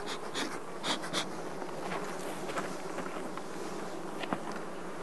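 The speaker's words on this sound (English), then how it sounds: "the bees will walk up back into the hive" Honeybees crawl back into a Langstroth hive past a cover propped at the entrance, a close, steady buzzing hum with a few louder passes of individual bees.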